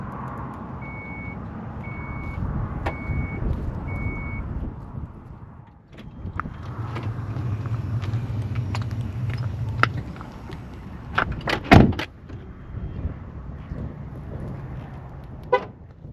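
Vehicle lock chirp, a few short horn toots amid steady engine and traffic rumble outdoors, with a repeated beeping pattern early on and sharp clicks near the end.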